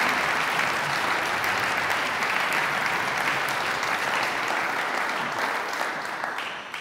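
Steady audience applause at a German environmental award ceremony as attendees return to their seats, continuous and even, tapering slightly at the end, with no talking.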